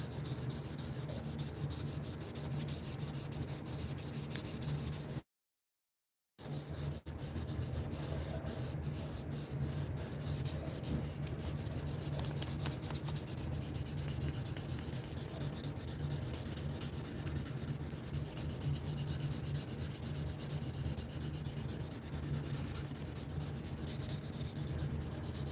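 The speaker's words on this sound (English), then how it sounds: "This is a very delicate sand because one slip is a problem." Jewelry sanded by hand with 1200 grit sandpaper: a steady, continuous close-up rubbing and scraping with fine gritty texture, running without pause except for a brief silent gap near the start, and no speech.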